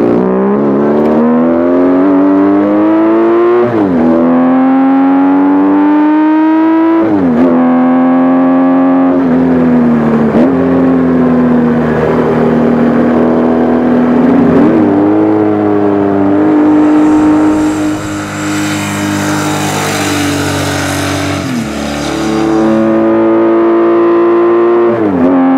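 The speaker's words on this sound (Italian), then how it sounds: "La prima cosa che colpisce è il motore. Ha un bellissimo sound meccanico, oggi non siamo più abituati a sentirlo." A Benelli 900 Sei motorcycle engine revs loudly and repeatedly, each blip rising and falling in pitch, with a strong mechanical growl that carries on without pause throughout.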